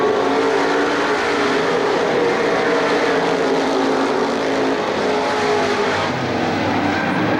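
Race cars roar around the oval at Lorain County Speedway during a 2002 event, a loud continuous engine drone with engines blending together and no talk heard.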